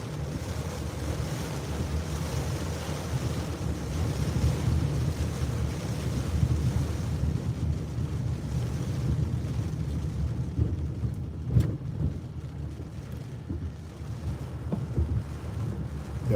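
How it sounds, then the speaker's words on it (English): Steady roar of surf and gusting wind during Hurricane Beryl on the Texas coast, continuous and loud with deep rumbling waves and wind buffeting the microphone, a brief sharper gust near the middle. "Yeah, waves are getting up."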